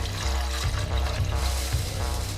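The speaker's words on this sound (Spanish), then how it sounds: "vamos a poner 1 litro de agua en la licuadora" One litre of water pouring into a blender jar, a continuous gushing, splashing stream heard up close and alone.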